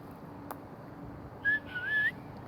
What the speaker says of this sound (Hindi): मैंने सीटी भी बजाई है